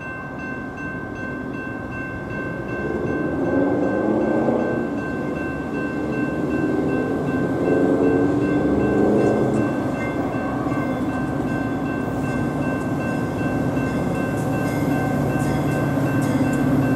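A Metra commuter train on the Northwest line pulls into Arlington Heights station during evening rush hour, a steady loud rumble of rolling cars and engine drone with a sustained tonal hum, continuous for the whole span without talk.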